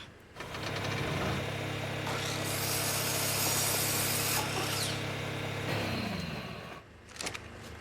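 A grinder machine in the video game Ark Survival Ascended runs with a loud, continuous mechanical grinding and whirring drone that starts up, holds steady for several seconds, then winds down near the end.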